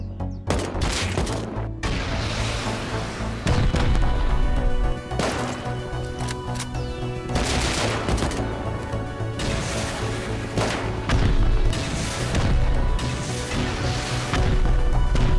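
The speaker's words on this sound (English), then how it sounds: "Okay, they're rocketing into my base." Rockets pounding a player base during a raid in a survival game set on an icy lake, with repeated heavy explosions and rapid cracking impacts landing in quick bursts across the whole stretch.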